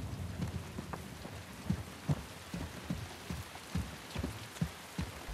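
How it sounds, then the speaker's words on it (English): Steady rainfall in the game Uncharted: The Lost Legacy, a continuous soft patter with scattered heavier drops landing, with no voices. "And there's the rain."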